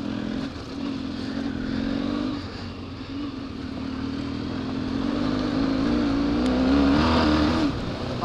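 A KTM 1090R motorcycle engine revs while riding off-road, a steady droning note that swells and climbs in pitch toward the end, heard continuously with no talking.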